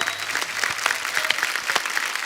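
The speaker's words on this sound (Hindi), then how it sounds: "जोरदार तालियां हुमा और साकिब के लिए।" A studio audience at a television comedy show claps briskly and evenly, a short burst of dense applause with no voices over it.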